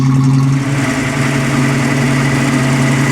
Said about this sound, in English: Sounds wonderful. Engine runs like a charm.